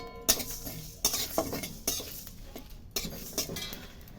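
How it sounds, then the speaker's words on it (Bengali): Coriander, cumin and bay leaves dry-roasting in a pan, with a utensil scraping and clinking against the metal in a series of sharp, repeated strokes, close and fairly quiet, with no talking. "এবার আমি শুকনো খোলায় সমস্ত মশলাগুলোকে ভেজে নেব।"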